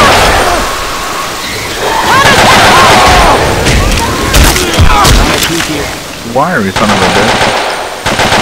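Rapid bursts of automatic gunfire and loud booms crowd together in a video game firefight, with a voice speaking briefly over the chaotic combat sounds.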